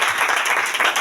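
A church congregation applauding the Lord during a prayer and fasting service, a dense, steady wash of clapping from many hands, loud and close throughout the short moment.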